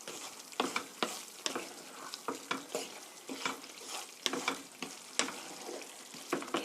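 Penne is stirred in tomato sauce in a pan, giving soft sizzling with repeated close scraping and clacking strokes at an irregular rhythm.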